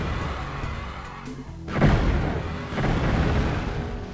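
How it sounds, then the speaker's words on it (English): Phoenix Rod fire in a Doom-engine game sets off a deep explosive boom midway, followed by a rumbling tail and a second swell of blast noise over steady game ambience. "It's kind of hard for me to take the Phoenix Rod explosion sound seriously"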